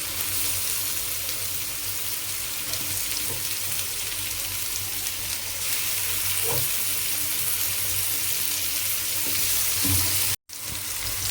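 Chicken fries in a pan with a steady close sizzle, and occasional scraping knocks of stirring break through it near the end.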